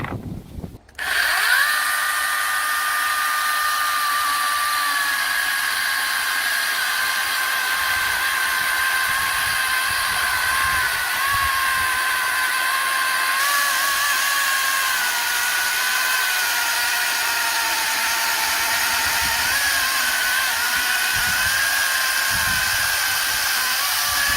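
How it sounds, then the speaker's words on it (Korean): KM Grand KS08 cordless chainsaw, a battery one-hand saw compatible with Makita packs, cutting through a 15 cm log: a loud, steady high-pitched motor whine with chain rasp, running continuously after a brief start, with no talking. "15cm 나무 한번 잘라보겠습니다."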